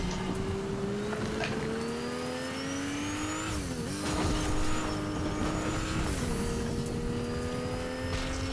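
A car drives in the video game Far Cry 6, its engine revving and shifting through gears with rising and falling pitch, close and loud, with brief tire noise and no talking.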